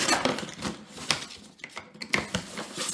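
A knife being handled while packaging for a Germanica portable induction cooker is opened, with close clattering, tapping and rustling clicks in an irregular series and no talk.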